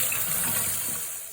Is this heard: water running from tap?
yes